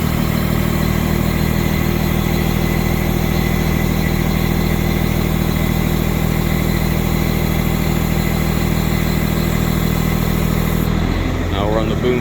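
A boom truck's engine runs steadily at a loud, close idle throughout while the boom is operated, with a brief mechanical change near the end and talk over the engine.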